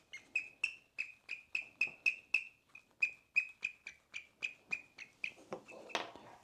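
A man imitates a sparrow with a quick series of sharp, bright chirps. About twenty evenly paced, close cheeps run in a steady rhythm, then break into a brief rougher burst at the end.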